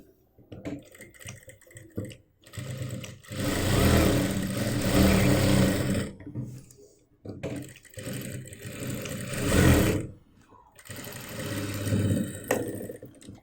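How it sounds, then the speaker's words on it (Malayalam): Sewing machine stitching the edges of a mobile phone pouch made from waste cloth: loud bursts of rapid mechanical whirring that stop and restart between short pauses, close and without talk. "ഇനി നമുക്ക് ഒരു സ്റ്റിച്ചും കൂടി എല്ലാ ഭാഗത്തും ചെയ്യാം."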